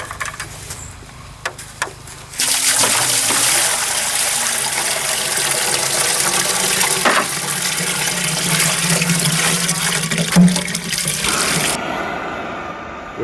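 Water pours steadily and loudly from a tap or hose into the chamber of a water-cooled coal forge, with a continuous rushing gush for about nine seconds, then it stops and a few light knocks follow.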